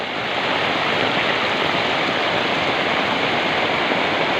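Loud, steady roar of rushing floodwater in the mountains, broad and continuous like a flooded river surging close by past planted fields, with no voices.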